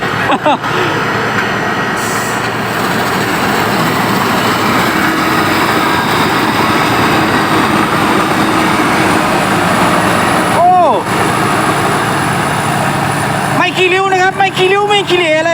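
Engine of an old Kaset Phatthana combine harvester running in a rice field, a loud, steady droning roar throughout with a brief pitch shift and some rattling near the end; someone talks over it.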